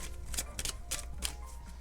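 A deck of oracle cards being shuffled by hand, giving quick papery riffles and flutters in several short bursts over a steady low hum, close and moderately loud.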